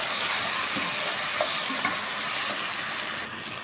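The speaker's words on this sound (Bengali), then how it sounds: "এগুলো লাই দিতেছি, মিক্স করে নিতেছি" Spices and grated carrot get stirred into mango pickle in a hot pan, a steady dense sizzle with faint scraping of the spoon, close and continuous without talk.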